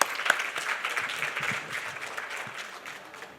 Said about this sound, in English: Let's have a huge round of applause for Vijay sir.